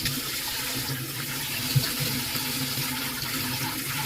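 Running water splashing steadily over an orange being washed under a tap, a constant close rushing stream with no voices.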